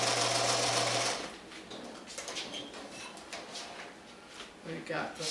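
A sewing machine whirs in a steady burst for about a second while finishing the corners of a pineapple quilt block, followed by quieter rustling and shuffling of fabric.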